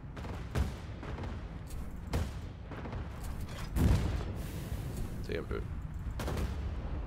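Gunfire in the Cloud Pirates video game, several loud shot bursts spaced a second or two apart, over a steady engine-like rumble while a player talks.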